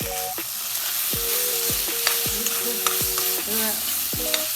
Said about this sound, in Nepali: आलुसँगै यहाँ मैले काटेर राखेको खुर्सानीहरू चाहिँ यसमा हाल्छु।